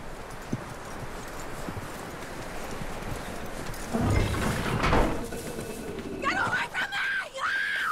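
Horse hooves clip-clop steadily at a walking pace in Red Dead Redemption 2, mixed with game ambience and voices, with a brief louder rustling burst midway.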